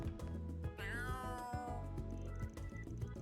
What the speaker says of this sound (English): there's the kitty.